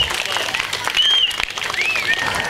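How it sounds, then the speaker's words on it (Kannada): Audience at a folk art festival applauds in a short, continuous patter of clapping, with crowd noise and some talking mixed in. "ಜೋರಾಗಿ ಚಪ್ಪಾಳೆ ಹೊಡಿಬೇಕು"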